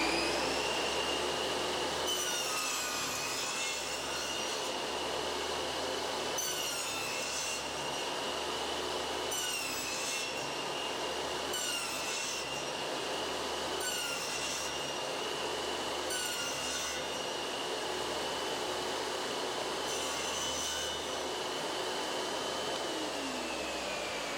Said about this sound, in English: Machining out the waste in between is really easy.